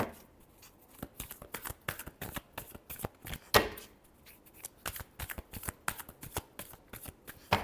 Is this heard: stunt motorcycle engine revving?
no